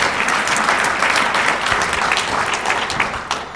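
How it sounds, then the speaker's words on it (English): Sustained applause from an audience at a leadership awards event, a dense, even wash of many hands clapping at close range with no voices standing out, tapering slightly at the end. "another round of applause for Supervisor Cook"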